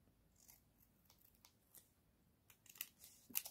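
Scissors snip through paper for journal crafting, trimming around a folded tab. The cuts come as a few soft, close, irregular crunches that grow sharper and louder toward the end, with no voices.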